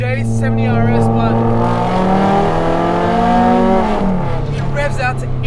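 The K-series engine of a Honda Civic Type R FN2 revs high, sweeping upward in a loud, close drone, then drops sharply as the throttle lifts. Speech is faintly audible beneath it.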